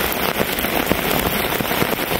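Heavy rain drums steadily on a tarp shelter over a hooped bivy during a thunderstorm camp, a dense close patter with sharper individual drop hits throughout.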